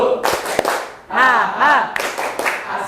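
A classroom group does a rhythmic 'tepuk semangat' ice-breaker clap, with sharp hand claps in quick patterned bursts mixed with voices chanting and calling out.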